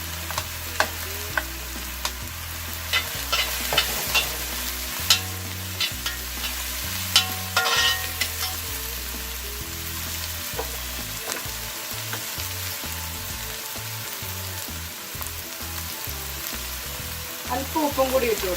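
Chopped onion, ginger and green chili sizzle in a hot pan for Kerala-style broken wheat upma, with a steady close frying hiss and occasional sharp scrapes and clinks of stirring, while rhythmic music plays underneath.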